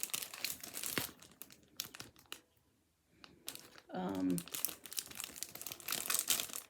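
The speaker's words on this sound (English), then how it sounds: "Crinkle Crinkle" A 2016 Mill Hill cross-stitch kit, Joe's Garage, has its plastic package handled close by, giving bursts of crisp crinkling with a short quiet pause midway and a brief voice partway through.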